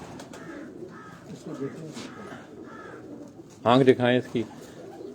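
Female Kamgar pigeon on a rooftop loft, soft repeated coos in a low steady background while someone speaks briefly near the end.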